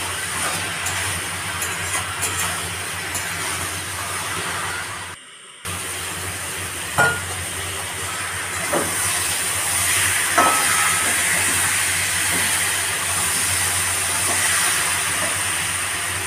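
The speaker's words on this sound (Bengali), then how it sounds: "চলো আলুগুলো ভালো করে মশলার সাথে কষিয়ে নিই।" Potatoes and peas fry with spices in a pan, giving a loud, steady sizzling hiss broken by a brief dropout and a few sharp clinks of stirring.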